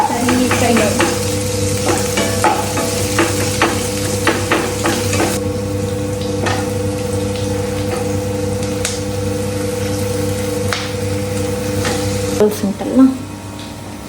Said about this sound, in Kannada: ಉಂಟಲ್ಲ ಅದನ್ನು ಹಾಕಿ ಫ್ರೈ ಮಾಡಿ, ಚೆನ್ನಾಗಿ ಫ್ರೈ ಮಾಡಿ